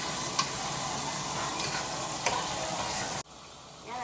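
Small pieces of meat fry and get stirred in a pan with garlic, a steady close sizzle with a few sharp spatula scrapes, cutting off abruptly near the end.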